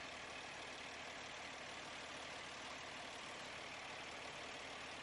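A truck engine idling during a pre-trip inspection: a steady, even, hissing engine drone with a low hum underneath, constant and unchanging for the whole stretch, moderately quiet with no talk over it.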